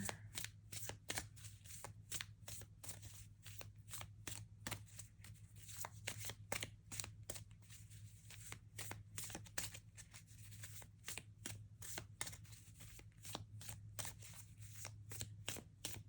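Tarot cards shuffled steadily for a card reading, a quick run of crisp riffling snaps and slaps over a low steady hum, close and continuous without speech.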